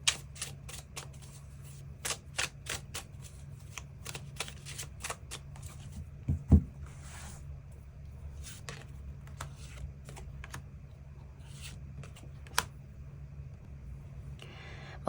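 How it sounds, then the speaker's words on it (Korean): Tarot cards shuffled and drawn, with a steady run of close, sharp card flicks and taps, busy at first and sparser later, plus one louder knock partway through, over quiet room hiss. "추가 카드 뽑아보도록 하겠습니다"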